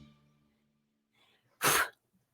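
A single loud, sharp sneeze bursts out alone after a stretch of quiet, preceded by faint low humming tones and a soft rustle, in a read-aloud story about a furry monster.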